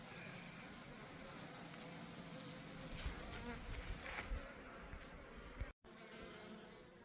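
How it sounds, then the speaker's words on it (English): Honey bees swarm around heavy, full beehives being readied for winter, a dense continuous buzzing that stays close and steady, swelling briefly midway before a short cut near the end. "nice heavy hives, right full of bees"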